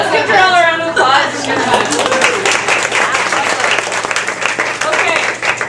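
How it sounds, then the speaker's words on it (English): Audience at a paparazzi training session applauding for Darrell, with a voice briefly talking at the start before a steady round of many hands clapping fills the rest, mixed with light crowd chatter. "let's give Darrell a round of applause"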